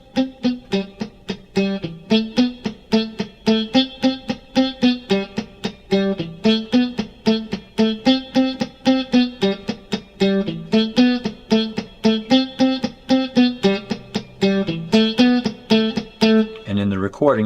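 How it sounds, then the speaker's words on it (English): Palm-muted electric guitar picks out a riff as a steady, fast run of short, clipped, pecking notes, close and alone, slightly distorted, ending on a brief ringing chord. "I've got that pecking sound going on by palming."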